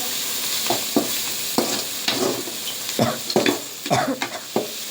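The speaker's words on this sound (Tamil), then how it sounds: "நல்லா வதக்கிடுங்க." Ingredients sauté in a hot pan with a steady sizzle, broken by repeated scraping strokes of a spoon stirring at an uneven rhythm, close and fairly loud.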